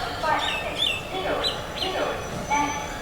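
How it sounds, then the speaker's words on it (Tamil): Many sparrows chirp and twitter from trees at a railway station, a busy layered chorus of short bright calls throughout. "நிறைய குருவி சத்தம் கேட்குது. ஆனால் குருவிகளை தான் ஸ்பாட் பண்ண முடியல."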